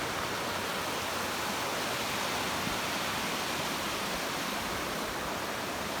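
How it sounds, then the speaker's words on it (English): A small waterfall on an overlanding trip rolls over rocks in a steady, dense rush of water, close and continuous with no voices. "So this is what they call the waterfall, and the water is falling, but it's more like rolling over the side."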